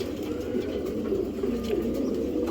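Close, continuous low cooing from a pair of Giribaz pigeons, warbling throaty calls rolling on without pause.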